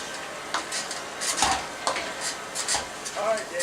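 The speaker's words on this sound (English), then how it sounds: "Let me stir my macaroni up." A spoon scrapes and stirs macaroni in a pot on a stovetop with repeated rubbing strokes over a soft, constant sizzle, close and moderately loud.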